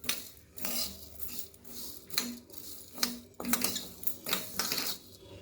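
A spoon scrapes and knocks around a metal cooking pot of sambar, giving a series of sharp clinks and scrapes at an irregular rhythm, close and moderately loud with no talk.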